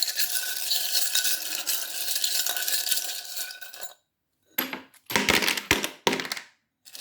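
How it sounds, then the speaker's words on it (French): Small charms stirred and mixed in a little pottery bowl, giving a steady clinking rattle for several seconds, then a brief pause and a few more short bursts of close, bright jostling. "Je prends ma petite poterie, attention au bruit, on va mélanger, bien mélanger."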